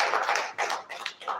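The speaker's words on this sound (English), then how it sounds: "Can we give him a round of applause?" Brief burst of audience applause at an academic event, dense clapping in a few short waves, moderately loud and close, no talk over it.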